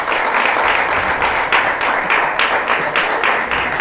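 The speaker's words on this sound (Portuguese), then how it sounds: "as palmas do Senhor." A church congregation breaks into loud, sustained clapping after a prayer, with a rhythmic surge of claps pulsing through the full stretch.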